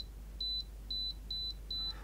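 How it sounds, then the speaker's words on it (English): Barisieur coffee alarm clock giving off a pinging alarm: four short, bright, evenly spaced electronic beeps, close and clear over a low hum. "My only criticism at this point is that pinging noise is quite annoying"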